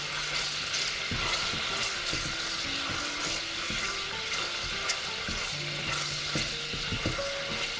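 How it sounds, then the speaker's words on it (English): Pancetta sizzles steadily in a pan with olive oil and butter while a utensil scrapes and stirs it in irregular strokes, close and continuous, with no talk. "So let's cook down the pancetta."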